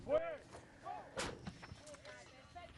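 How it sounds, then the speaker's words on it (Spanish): Artillery firing a barrage during a NATO exercise in Spain, with one sharp distant boom in the middle of the clip amid faint background voices and other noise. "A todo eso, la artillería demostrando su capacidad de generar barrera."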